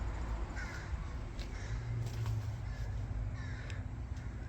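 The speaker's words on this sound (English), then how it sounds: "Don't mind the crows up there in the trees." Crows caw up in the trees above an outdoor car workshop, several short, fairly distant calls scattered through a steady wash of background noise.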